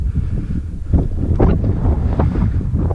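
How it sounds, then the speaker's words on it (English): Strong south wind buffets the microphone on a mountain hike near Craterville Park and Arapaho Point in the Wichita Mountains, a loud, rumbling roar that swells and gusts steadily with no voices. "starting to get a little windy"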